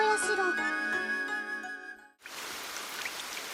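Steady rain patters down at Inochinushi shrine beside Izumo Taisha, home to a thousand-year-old muku tree; a dense, even hiss takes over after a stretch of ringing, chime-like tones that cut off abruptly.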